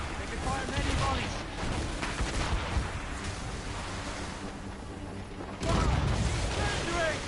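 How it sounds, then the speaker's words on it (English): Naval cannon volleys boom from sailing warships in Assassin's Creed Rogue, rumbling amid wind and crashing sea surf, with a loud burst of fire near the end and shouted crew voices in places. "They can fire many volleys."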